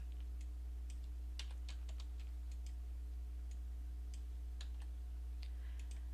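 Computer keyboard typing while a link title is edited, quick bursts of irregular clicking keystrokes over a steady low electrical hum, fairly quiet and close.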